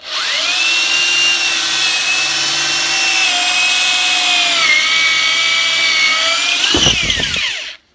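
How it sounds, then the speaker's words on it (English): A power drill spins at high speed, boring screw holes into wood for a bar stool. Its whine holds steady and loud for several seconds, dips slightly in pitch, then winds down with a brief rattle. "Just put it in there and start drilling"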